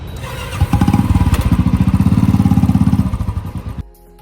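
A motorcycle engine idles up close and loud with a fast, throbbing putter as the bike is turned around, then it cuts off abruptly near the end.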